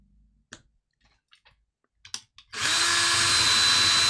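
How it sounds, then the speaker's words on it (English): A hand drill bores into an Apple Watch: a few light clicks and knocks first, then the drill starts up at about two and a half seconds into a loud, steady high whine that runs to the end. "but I do have a drill."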